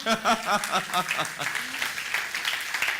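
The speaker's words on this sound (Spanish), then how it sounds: "Dale un aplauso al Señor." A church congregation breaks into applause, with voices and bright, tonal calls over the clapping early on before it settles into a steady patter of hands.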